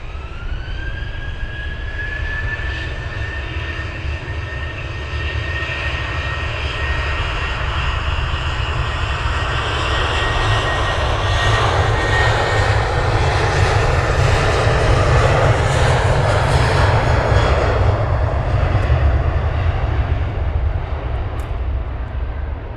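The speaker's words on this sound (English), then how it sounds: "Two more EasyJets taxiing out." EasyJet jet airliners taxi at Luton Airport with a loud, continuous engine roar and a rising whine that swells and grows nearer over about twenty seconds, with no voices.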